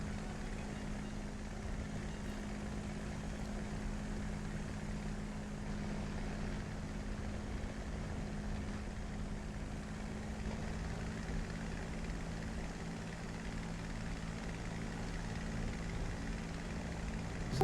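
Aircraft engines drone in War Thunder, with enemy planes close by during a dive: a steady, loud propeller hum with a constant low tone that holds unbroken for a long stretch, and no talking.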